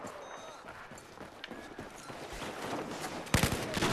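A teammate firing a gun in a Battlefield 4 match, heard as a dense wash of battle noise with scattered cracks that builds to a sharper, louder burst of shots near the end.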